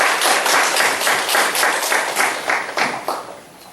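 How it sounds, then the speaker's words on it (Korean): A church parent-education gathering greets its guest speaker with a burst of loud, close applause from the audience, many hands clapping in a busy, continuous patter that tapers off near the end. "큰 박수로 맞아주시기 바랍니다"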